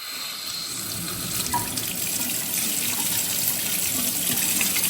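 Water runs steadily from a brass swivel faucet extender into a sink, a continuous close splashing flow that grows slightly stronger after the first second.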